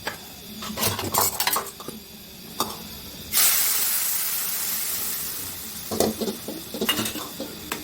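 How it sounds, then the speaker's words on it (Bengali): Greens poured into a pan of reddened fried onions, setting off a sudden loud hiss of steam that slowly fades, framed by clinking and scraping utensil strikes before and after. "এখন আমরা শাকটা ঢেলে দেবো।"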